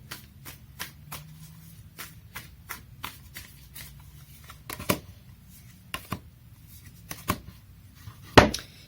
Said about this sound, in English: Let me pull up some cards from the universe for you.